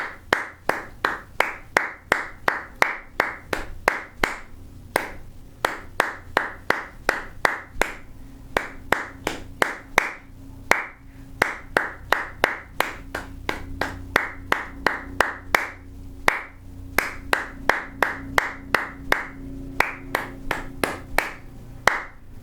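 Hands clap a steady rhythm of quarter and eighth notes for saxophone practice, bright close claps repeating in a regular pattern with no other sounds.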